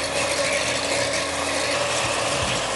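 A handheld electric beater whirs steadily through chocolate cake batter of flour, cocoa powder, baking powder, sugar and vanilla essence, a continuous mechanical buzz heard alone and close, without talk.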